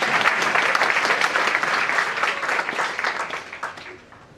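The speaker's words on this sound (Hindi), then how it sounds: "ताली तो इतनी बज जाती है" An audience at a Jain sermon breaks into dense applause, a loud steady clapping that gradually fades out over a few seconds.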